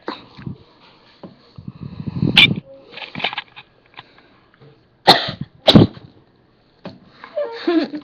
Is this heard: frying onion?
no